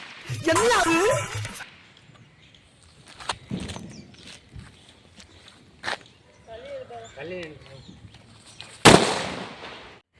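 Several small firecrackers pop and crack at scattered moments, one loud sharp burst near the end, with people talking in between.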